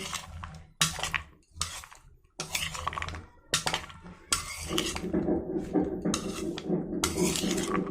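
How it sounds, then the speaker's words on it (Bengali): Spoon stirring a protein salad dressed with lemon juice in a bowl, giving repeated close clinks and scrapes in bursts with short pauses, no talk. "এবার একটা চামচের সাহায্যে মিশিয়ে নেব"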